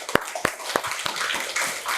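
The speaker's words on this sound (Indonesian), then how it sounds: "boleh tepuk tangan sekali lagi" Scattered clapping from a small audience at a meeting on follow-up plans for advancing Acehnese oral tradition, several sharp individual claps at first, then a thin, uneven patter of hands that stays fairly faint.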